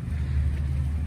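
A Ford truck's V8 engine idles under the open hood with a steady, deep low rumble, close and continuous with no speech over it.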